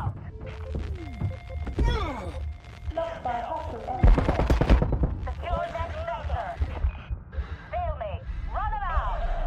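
Gunfire from the shooter game Boundary, bursts of rapid shots and a heavy thudding blast near the middle, with someone talking over much of it and in-game voices mixed in.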